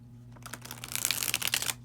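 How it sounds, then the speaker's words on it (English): A mass-market deck of playing cards on smooth cardstock is shuffled close up, a dense burst of crisp riffling clicks that builds and flutters for over a second before stopping. "I've been shuffling"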